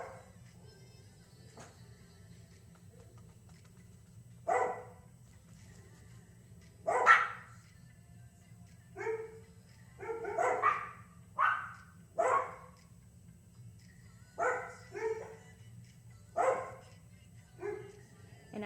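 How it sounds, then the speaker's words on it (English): Several dogs bark in irregular bursts, some single yaps and some quick doubles, over a steady low hum in the background. "And now we got the whole gang barking."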